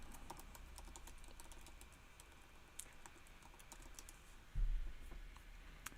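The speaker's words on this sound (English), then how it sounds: "I'm typing it in the chat right now." Typing on a computer keyboard during a poster-design livestream, a quick irregular run of soft, close key clicks with brief pauses, then a louder thump near the end.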